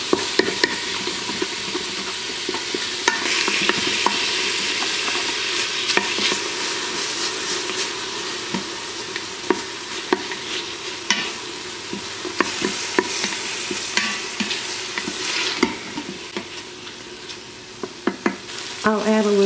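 Stew meat stirred in a hot Instant Pot, steady sizzling with frequent scraping clicks of a utensil against the pot, close and continuous with no talk.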